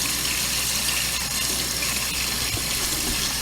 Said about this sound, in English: So I turn on the water, and I will kind of rinse it as I rub my fingers through there.